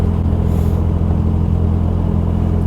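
Steady low engine drone of a 1960 Bugeye Sprite fitted with a later European Ford Sierra gearbox, cruising at constant speed with continuous road rumble and no shifts or revs, close and fairly loud throughout.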